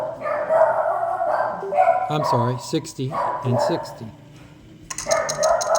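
Several dogs bark and yip loudly in bursts while a person talks over them, the barking stopping briefly before resuming near the end.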